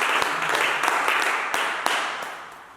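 A church congregation applauds during a worship service, a dense, steady patter of many hands clapping with a few sharper individual claps, fading somewhat toward the end.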